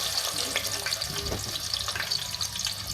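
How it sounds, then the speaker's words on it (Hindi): Medium-sized onion frying in oil for an aloo palak gravy, a steady broadband sizzle that runs unbroken for the whole stretch, close and fairly loud, with no talk over it. "ऑयल में हम प्याज ऐड करेंगे"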